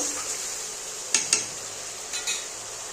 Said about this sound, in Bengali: একটু সামান্য জল দিয়ে ব্যাস, এবার ভালো করে কষিয়ে নেব।